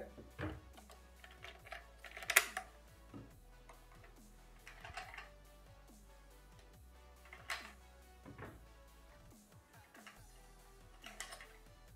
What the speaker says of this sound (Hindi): तो सबसे पहले आपको ये बोल्ट को पुल करना रहेगा इस तरह से तो आप देख पाओगे कि यहाँ पे जगह खुल जाएगी जहाँ से आप ये बॉल को अंदर इंसर्ट कर पाओगे